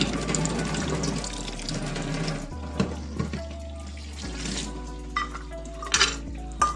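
Dried meat rinsed in water, with sloshing and tap-like running water, occasional clinks of a pot or bowl, and a low steady hum beneath, fairly close and without talk.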